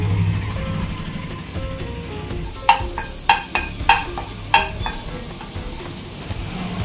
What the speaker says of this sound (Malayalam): ബട്ടർ ഒന്ന് മെൽറ്റായി കഴിഞ്ഞാൽ